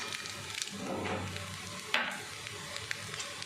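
Fried peanuts stirred into sizzling chira pulao of flattened rice in a pan, with a steady hiss of frying under scraping stirs and one sharper clatter, close and moderately loud.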